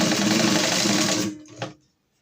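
Sewing machine stitching a saree hem, running steadily and loud up close, then slowing, a final clunk and stopping into silence.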